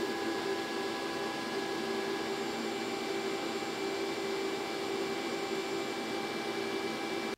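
A 50-gallon upgraded shop vac runs steadily with a tube attached, a loud, constant motor whine and airflow rush with a few steady tones, no pauses and no talking.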